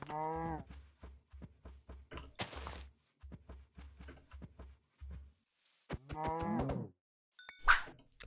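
Blocky cows in a Minecraft survival game moo loudly several times while being attacked, the lowing calls broken by soft hit thuds, with quiet clicks and a voice speaking in between.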